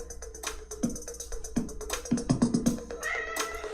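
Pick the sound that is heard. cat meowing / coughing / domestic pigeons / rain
cat meowing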